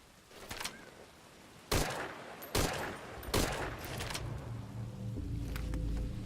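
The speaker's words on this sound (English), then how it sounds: "We're hearing gunfire." Several sharp gunshots ring out at irregular intervals over a low background rumble, fairly distant and echoing, in Metal Gear Solid V: Ground Zeroes.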